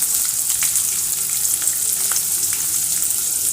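Shallots and green chilies frying in a pan, a continuous bright sizzle with occasional soft pops and stirring, steady and close with no voices.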